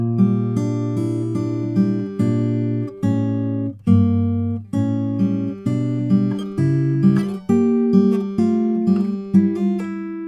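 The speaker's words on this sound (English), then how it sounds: "And that's the second line of tab, which sounds like this." Fingerpicked acoustic guitar plays the second tab line of a song, a flowing arpeggiated pattern with regular plucked attacks and ringing bass notes, close and alone.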